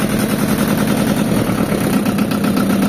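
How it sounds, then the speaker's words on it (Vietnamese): Kubota or Yanmar tractor engine running, a loud, steady diesel chug with rapid even knocking, close by and continuous, with no voices. "Cái này nè, nó xuống gan ti nổ nghe đã lắm."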